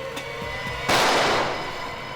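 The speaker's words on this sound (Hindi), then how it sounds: "सर किसी ने मुझ पर गोली चलाई सर।" A single sharp gunshot cracks out in a crime drama, a sudden loud bang with a short rushing decay after a quiet lead-in.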